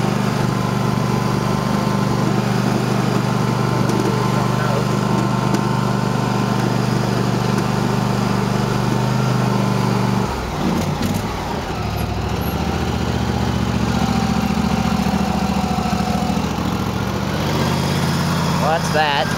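Cub Cadet lawn tractor engine running steadily and loud throughout, with a shift in pitch partway through as it changes speed, close by.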